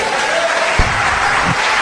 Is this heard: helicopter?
no